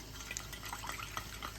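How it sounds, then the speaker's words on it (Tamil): Warm water trickles and drips into a small amount of salt, a soft, close, continuous pour with scattered drips, for making puttu. "உப்பில் வந்து கொஞ்சம் வெது வெதுப்பான தண்ணி சேர்த்துக்கிறேன்"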